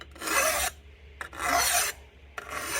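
Hand file sharpening a garden tool blade, three long rasping strokes in one direction with short pauses between, close and clear.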